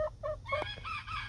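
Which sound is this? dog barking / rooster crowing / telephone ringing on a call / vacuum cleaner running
rooster crowing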